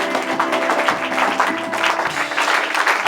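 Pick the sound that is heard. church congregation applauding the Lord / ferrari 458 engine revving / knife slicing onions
church congregation applauding the Lord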